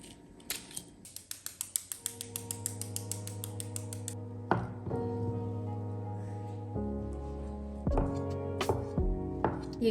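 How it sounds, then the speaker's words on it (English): Knife slicing boiled eggs on a board for a traditional Russian New Year's dish, heard as a rapid run of light, close taps at the start, then occasional single knocks over sustained background music. "Eggs cool down first, so we'll cut them first."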